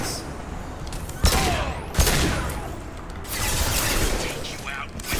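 Gunfire in the Mass Effect 2 video game: sharp shots crack at about 1.3 and 2 seconds over a dense, continuous wash of battle noise and rattling fire.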